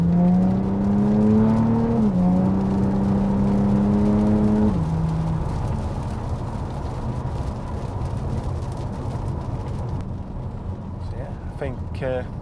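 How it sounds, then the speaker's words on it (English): Tuned Audi A5 with a 3.0 V6, about 418 hp, accelerating hard through the gears: a loud, near engine note climbs steadily, dips at a shift and climbs again before settling into a steady cabin drone with road rumble. "I want to punch it again, see what it sounds like."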